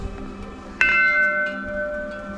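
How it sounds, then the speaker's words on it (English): Small bells at a Nepali Hindu temple with wooden carvings ring out with a sharp metallic strike and a sustained ringing tone that slowly fades, set against faint background ambience. "Little bells."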